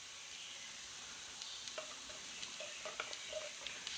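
Garlic and spices toasting in a pan, a faint, soft steady sizzle with scattered light ticks and scrapes from stirring, quiet and close, with no voices.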